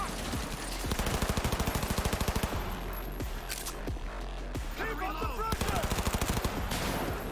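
Submachine gun fire in Cyberpunk 2077, rapid close bursts of evenly spaced shots, one long burst and then several shorter ones between brief pauses, loud against a steady game background.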